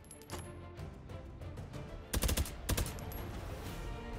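Bursts of gunfire from a drum-magazine gun in the VR game Hot Dogs, Horseshoes & Hand Grenades, two sharp rapid volleys of shots over a low game background, fairly faint overall, with no talk.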